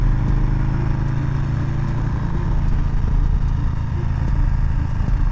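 A Harley-Davidson Softail Street Bob motorcycle engine running at a steady idle, with a loud, continuous low rumble and faint rhythmic ticking, close by and with no talking.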